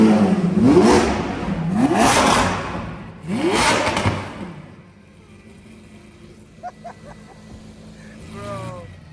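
A sports car at a car meet revs hard three times in quick succession, each roaring rise loud and close, then settles into a rumbling idle while people talk nearby.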